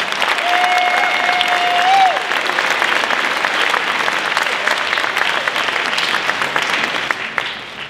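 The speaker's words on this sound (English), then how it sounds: "So will you give them a hand, please?" A high school concert band's audience at a winter concert claps steadily, a full hall of applause holding at an even level for several seconds and thinning slightly near the end.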